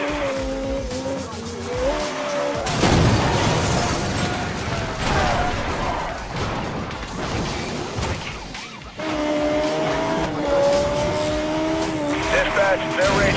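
Car crash in a police pursuit of an illegal street race in Need for Speed Most Wanted (2012): loud engine roar, tire squeals and skidding with a heavy impact burst midway, overlaid with police radio chatter.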